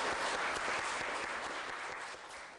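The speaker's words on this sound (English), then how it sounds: "And I'd like to give you a round of applause." Audience applause at a community justice center event, a sustained, fairly full round of clapping from a group that holds steady and fades slightly toward the end.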